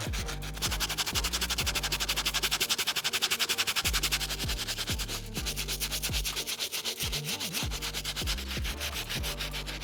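A stiff brush scrubs the rubber soles and white midsoles of 1985 Bred Air Jordan 1 sneakers in quick, rhythmic rasping strokes, close and steady throughout, with no talk.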